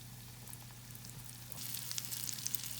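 Breaded pork cutlets frying in hot oil in a non-stick pan. A steady soft sizzle swells into denser crackling and popping partway through, fairly quiet and heard alone.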